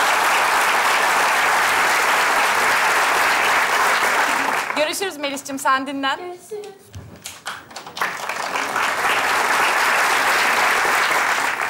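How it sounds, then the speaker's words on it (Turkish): Studio audience applause on a children's comedy TV show, loud steady clapping that fills most of the stretch, dipping briefly while a voice speaks in the middle before the clapping swells again. "İkisine de kocaman alkış alalım."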